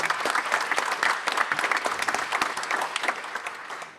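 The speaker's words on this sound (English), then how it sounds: "can we give Peter a big special round of applause as well?" A large conference audience claps steadily and loudly, a dense wash of applause that continues without a break.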